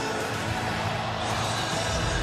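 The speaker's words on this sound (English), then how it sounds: "Almost can't hear myself over the crowd." Dense, roaring stadium crowd noise at a Tennessee vs Alabama college football game, a steady loud wash of cheering with no breaks.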